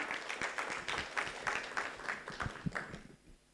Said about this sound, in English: A round of applause for Marcy.